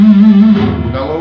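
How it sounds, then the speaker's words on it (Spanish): An electric guitar plays a short bluesy phrase through distortion, a loud sustained note bending and then sliding into a brief descending run, alone without talk. "Vamos a hacerlo con distorsión."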